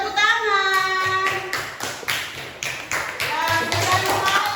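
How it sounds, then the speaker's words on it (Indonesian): Schoolchildren in a classroom clapping along together in a rhythmic series of sharp, loud claps, with a teacher's voice and children's voices heard around them. "Oke, tepuk tangan"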